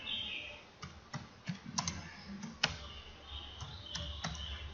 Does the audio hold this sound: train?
no